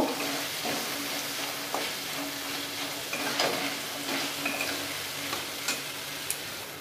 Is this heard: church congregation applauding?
no